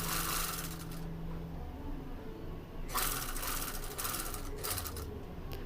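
A sewing machine stitches a frock in short bursts, with a rapid mechanical whir near the start and louder, clattering runs later, close by and with no talk.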